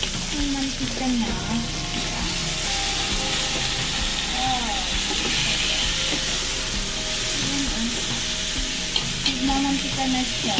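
Pork renders its fat and sizzles steadily in a pot for Filipino nilagang baboy, a continuous close frying hiss with occasional stirring scrapes and faint background voices.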